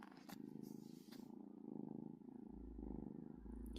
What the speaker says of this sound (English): Can you hear it purring?